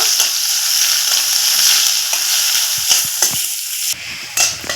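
Chopped onion with whole cumin frying in hot oil, a bright continuous sizzle with occasional stirring knocks and crackles, close and fairly loud, easing slightly near the end.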